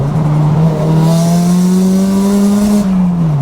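A Nissan S15 Silvia engine drones loudly and steadily under boost while driving, its pitch climbing gently then dipping at the end, heard from inside the car with no talking.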